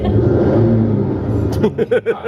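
A car engine revving loudly in a low, throaty drone that sags and then breaks into several quick throttle blips toward the end, heard close with no voices over it.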